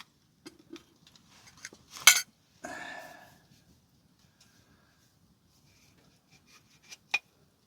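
Coffee pot being handled and set up at a night camp with a Onetigris Northgaze tent: scattered metallic clinks and knocks, one sharper clatter, then brief rustling and a final clink amid quiet.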